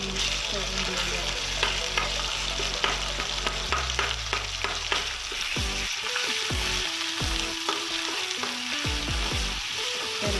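Onion and masala sauté in a pan for a pattodi rassa curry, a steady loud sizzle with repeated scraping and clinks of a spatula stirring throughout, close by and with no talk.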